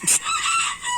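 A short, high, slightly strained crow from a young rooster, close and loud, lasting about a second.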